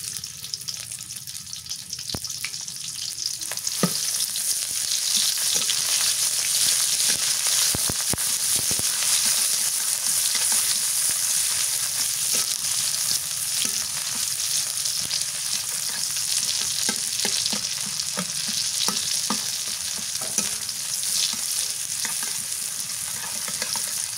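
Onion paste fries in a pan with a loud, steady sizzle that fills the whole stretch, dotted with small clicks and scrapes from stirring.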